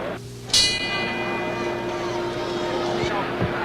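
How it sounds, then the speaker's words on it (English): Boxing ring bell struck to open round 6 of an Ali–Frazier fight, a bright ringing strike with a sustained tone over a loud arena crowd roar. "the bell for round 6."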